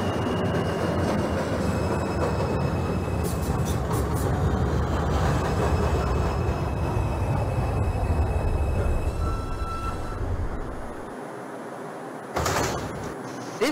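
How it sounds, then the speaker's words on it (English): A New York subway 2 local train bound for Flatbush Avenue runs in the OpenBVE train simulator game, with a loud continuous rolling rumble and wheel noise that eases as it slows, then brief tones near the end. "This is a Brooklyn College Flatbush Avenue bound 2 local train."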